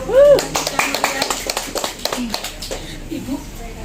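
An Indonesian Independence Day crowd claps in scattered bursts at a 79th anniversary celebration in Tegal, close and lively, with children's voices and chatter mixed in.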